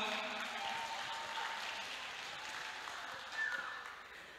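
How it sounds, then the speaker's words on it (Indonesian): Faint, distant applause from an audience at a closing ceremony in a hajj dormitory hall, a steady wash of clapping that holds for several seconds before thinning out. "Boleh sekali lagi tepuk tangan untuk kita semua"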